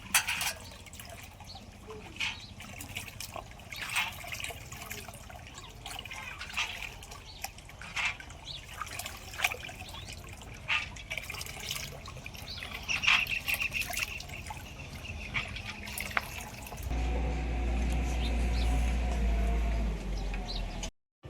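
Wheat grains sloshing and swirling in water inside a pot as they are washed, with soft trickling and dripping, then a louder, steady rush of water poured in near the end.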